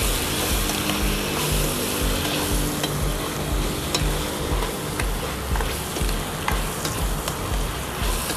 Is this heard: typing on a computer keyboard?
no